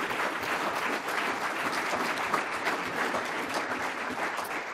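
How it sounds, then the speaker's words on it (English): A packed room at a labor union event gives sustained, even applause in honor of Frank Maroney, a dense wash of many hands clapping at a steady loud level with no speech. "Give Frank a round of applause for what he does."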